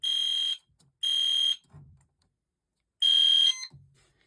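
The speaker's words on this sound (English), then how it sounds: "Is it gonna go back into alarm? So it's back into alarm." An EST fire alarm system under test sounds loud, piercing electronic horn blasts in a repeating pattern of three half-second bursts with gaps, each followed by a faint low thump.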